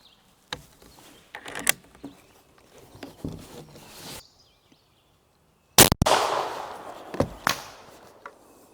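An AEA Challenger Elite air rifle fires and the pellet strikes wooden boards: one sharp, loud crack followed by a short burst of rustle and thuds. Scattered clicks and handling noises come before it.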